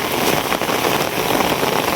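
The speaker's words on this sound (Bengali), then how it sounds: "এই রাত্রেবেলা কী পরিমাণ বৃষ্টি প্রচুর বৃষ্টি" Heavy nighttime rain pours down steadily as someone walks home under an umbrella, a dense, continuous hiss of drops close by with no pauses and no voices.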